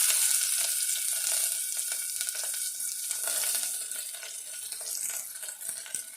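About fifteen chopped small onions and curry leaves fry in hot oil for tomato curry. A steady, bright sizzle runs throughout with occasional stirring clicks, close up, loudest at the start and easing slightly.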